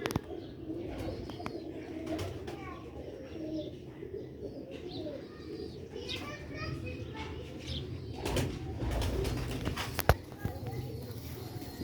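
Sialkoti black-faced pigeons coo softly, with their calls mixed into a busy outdoor scene of chirping birds, scattered clatter and occasional voices in the background.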